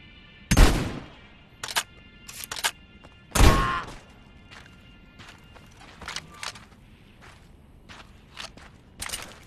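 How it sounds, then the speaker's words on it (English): Single shots from a weapon in a video game tutorial, spaced apart with short pauses: a few loud sharp cracks and several fainter ones, alone with no talk. "take a short pause between each shot to account for the recoil"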